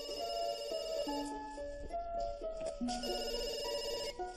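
A telephone rings with a steady electronic tone before the call is answered, playing on through the whole stretch over low background music.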